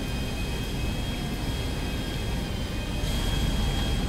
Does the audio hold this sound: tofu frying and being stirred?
no